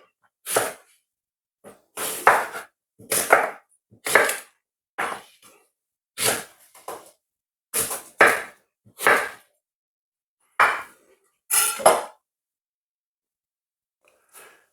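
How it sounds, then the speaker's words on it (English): A knife chops a washed, skin-on apple into small pieces on a board for beetroot juice. The cuts are close, crisp and irregular, with about a dozen separate strokes and short pauses between them. "going to cut these up small, and that is to help the blending process"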